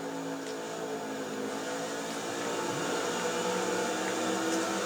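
Steady engine drone of a NASCAR race car in the NASCAR '14 video game, a continuous mid-level hum held at even loudness throughout with no talking.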